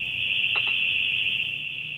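A recorded alarm rings as a steady, piercing high tone throughout, with a brief faint knock or tap partway through under the constant ringing.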